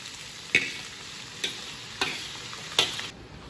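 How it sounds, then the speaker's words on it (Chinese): Quiet sizzle of beef heart and onions frying in oil in a wok, with four sharp clacks of a spatula stirring and scraping at irregular intervals. "起锅烧油，油热后加入洋葱，稍微翻炒一下，铺到锅底，"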